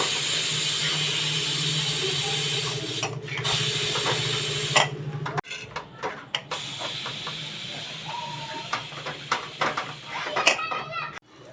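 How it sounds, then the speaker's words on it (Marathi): A pressure cooker holding mutton vents its steam in a steady, loud hiss for several seconds. Clattering handling noises and voices follow once the hiss stops. "तोपर्यंत आपण कुकरची हवा काढून घेऊया"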